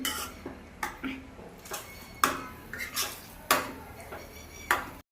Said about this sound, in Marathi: आता हे चांगलं हलवून घ्यायची आहे भाजी.